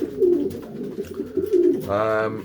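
A cock and hen pigeon in a loft coo softly in low, throaty bursts, close by, with a brief higher call near the end.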